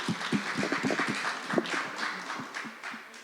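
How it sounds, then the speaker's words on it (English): Audience applause for conference organizers, a burst of clapping from a crowd that rises quickly and then thins out over about three seconds. "please give a round of applause to the organizers over here"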